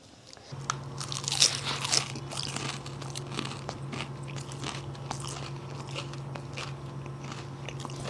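Crisp bites into fried chicken donuts coated in crunchy vermicelli give repeated close, loud crunches with crackling chewing that continues steadily throughout.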